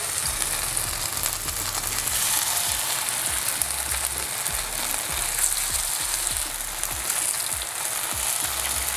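Marinated fish pieces fry in very hot, smoking oil, giving a steady, dense sizzle and crackle close up with small pops throughout and no voices.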